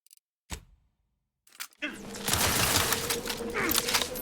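Gunfire in the video game The Outer Worlds 2: a couple of sharp isolated shots after a near-silent gap, then a dense sustained volley of rapid automatic fire mixed with impacts, loud and close.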